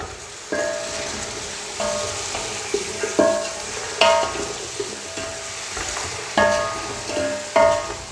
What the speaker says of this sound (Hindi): अभी हम इन तमाम चीज़ों को 3 से 4 मिनट के लिए अच्छी तरह फ्राई करेंगे ताकि तमाम चीज़ें अच्छी तरह फ्राई हो जाएं।